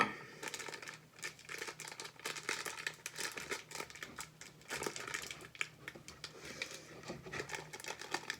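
Tough plastic packaging around a Zuru Robo Fish toy being torn and crumpled up close, with quiet, irregular crinkling and ripping bursts that continue throughout.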